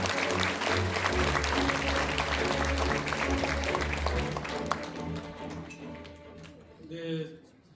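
Audience applause fills an outdoor mayoral inauguration ceremony in Siheung, loud and steady for several seconds and then fading, with music and a voice beneath it.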